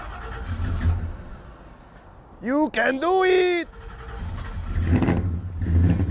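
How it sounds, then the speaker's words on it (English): An old Ford Ranchero with a carburetor engine on a cold morning around 20 degrees cranks and catches, a short burst of engine sound with a belt squeak, while voices cheer over it and ambient noise continues around it. "Belt squeak, no starter, good to go."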